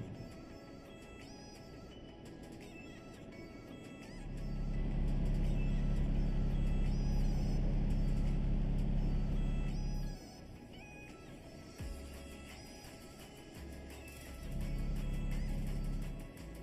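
Truck engine droning low and steady in Euro Truck Simulator 2, swelling louder for several seconds as it pulls toward the Autobahn near Stuttgart, then easing off and rising again, with no voices over it.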